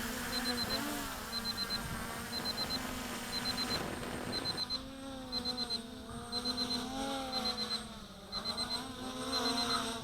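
Small JJRC X1 brushless drone motors buzz with a steady high whine that rises and falls in pitch as the craft comes in to land, fairly close and unbroken throughout.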